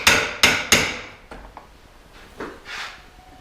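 A thin punch tapped against plastic trim clips on a 2001 Porsche Boxster 986 during rear bumper removal: three sharp, close metallic taps in quick succession, then fainter knocks and small rattles.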